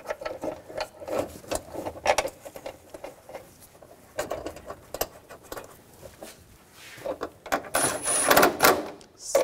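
Bolts are fastened on the radiator fan clutch of a 2000–2006 BMW X5 3.0L inline-six with a ratchet, giving rapid bursts of close, light clicking in uneven spurts with short pauses between them, with no talk.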